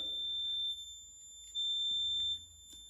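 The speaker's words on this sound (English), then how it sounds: "REM pod's going off again." A REM pod ghost detector in an old jail kitchen gives a steady high-pitched electronic tone, with two louder beeping stretches cutting in and out against a quiet low hum.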